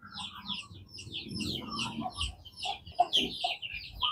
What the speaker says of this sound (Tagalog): Ating tandang.